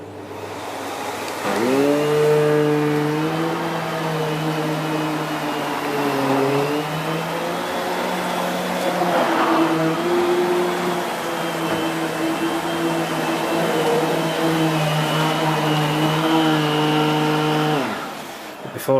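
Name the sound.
Miele S5980 Revolution vacuum cleaner running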